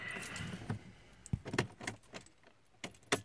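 Keys jangle and click as a key goes into the ignition of a Mercedes A45 AMG (W176). The bursts of metallic rattle are short and close, with quiet pauses between them.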